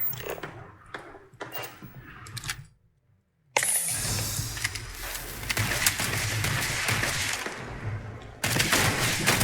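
Gunfire in the video game Starfield, scattered sharp shots early, a brief silence, then sustained loud rapid firing and crackling impacts close by, with faint talk.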